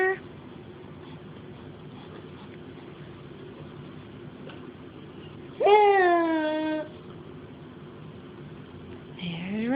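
A cat gives a single clear, drawn-out meow partway through, with another brief meow starting at the end, over a quiet, low background hum.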